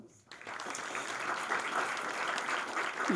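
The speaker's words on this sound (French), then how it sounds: "Vous pouvez l'applaudir" Audience applause at an investment conference welcoming a panelist, rising after a brief pause and continuing evenly at moderate volume, with faint voices underneath.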